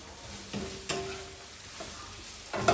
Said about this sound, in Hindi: मैंने तेल में गार्लिक, ग्रीन चिली, अनियन, फिर उसके बाद 3 कलर्स का बेल पेपर सॉटे कर लिया